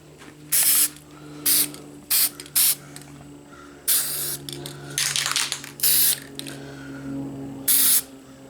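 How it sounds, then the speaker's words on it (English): Short bursts of aerosol spray paint for hydro dipping hiss in an irregular rhythm, some quick and some longer, with quiet pauses and a low background hum between them. "So we'll spray this."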